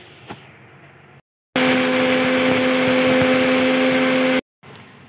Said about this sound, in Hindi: ये दाल को मैंने मिक्सी में डाल दिया है, बस अब इसको चलाएंगे और इसको पीस लेंगे।